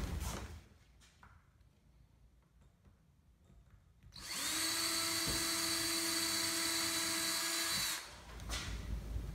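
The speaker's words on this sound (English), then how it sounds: "I'll drill a pilot hole through the clip and into the frame" A power drill bores a pilot hole through a small wooden frame clip into the frame, its motor whining steadily and loudly for several seconds after quieter handling sounds, then cutting off.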